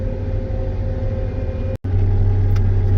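A combine harvester's separator running in a farming video game gives a steady, loud mechanical drone with a low hum. A brief dropout interrupts it near the end.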